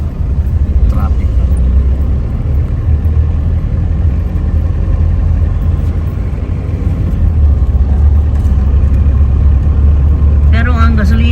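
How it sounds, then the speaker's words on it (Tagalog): Road traffic in a city after a typhoon, a steady low rumble of idling and passing car engines close by, with people talking over it. "Traffic."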